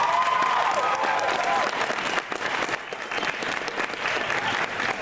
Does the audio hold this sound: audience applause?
yes